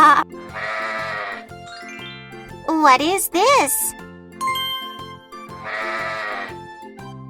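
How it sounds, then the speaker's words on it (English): A sheep bleats in a series of wavering, nasal calls with short gaps between them, clear and close, while a voice asks a short question. "It is a sheep."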